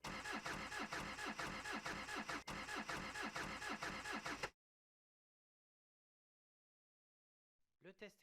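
A diesel engine cranks on its starter during a 2000 bar high-pressure fuel test, giving about four and a half seconds of loud, steady, rhythmic churning before it cuts to silence. A brief voice follows at the end.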